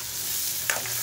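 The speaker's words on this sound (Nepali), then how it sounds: "यसलाई चाहिँ मजाले चलाउनुहोस्, केही बेर मसला चारैतिर लागुन्जेलसम्म चलाउनुहोस्" Spices frying in a hot pan while being stirred, a bright continuous sizzle with a brief scraping swish near the end, close and loud.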